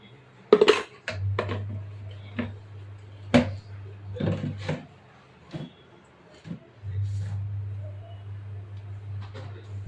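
Spicy snacks seasoned with salt and chilli powder rattle inside a closed glass jar, giving scattered clinks and knocks in short bursts alongside a steady low hum, with some voice underneath.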